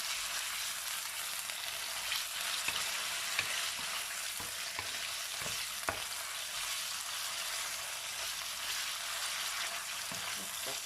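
Chicken sizzles and hisses as it is stir-fried with ginger, garlic and chilli in a hot pan, a steady frying crackle with occasional sharp pops and clinks of stirring, fairly quiet, with no talking.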